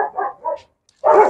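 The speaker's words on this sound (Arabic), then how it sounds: "طلع لي الكلب الجيرمان اللي هنا." A German Shepherd dog lets out short, loud bursts of barking at close range, a couple of quick barks, a brief pause, then another sharp bark.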